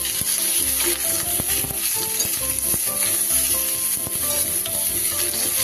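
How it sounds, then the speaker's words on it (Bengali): Potatoes and aubergine fry in a pan with a loud, continuous hiss of hot oil, broken by repeated scraping clinks as they are stirred. "আলুর সাথে বেগুনটাকেও একটু নেড়ে নেব ভালো করে।"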